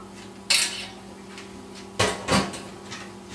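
Drained pasta is tipped into a pot of homemade minestrone, with a few clattering metal knocks of pot and utensils, a sharp clank at the start and two more near the end.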